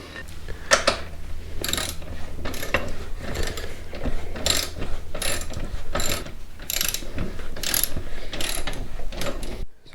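A ratchet wrench tightens the 22 mm rear axle nut on a Yamaha MT-03 motorcycle, producing close, repeated bursts of rapid clicking in an irregular rhythm over several strokes, with a few quiet spoken words nearby.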